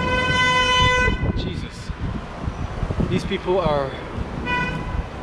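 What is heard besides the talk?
vehicle horns honking in city street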